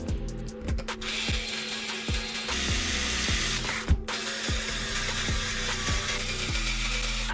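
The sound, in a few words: power tool driving wheel nuts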